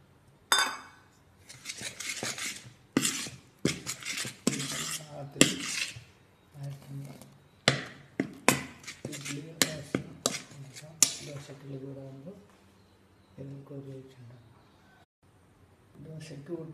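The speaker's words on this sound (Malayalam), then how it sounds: "പാത്രം കഴുകി" Pots and dishes are washed in a home kitchen, giving intermittent clinks, clatters and scrapes of metal and crockery at close range. The sounds come in bursts with quiet gaps, and a voice speaks softly near the end.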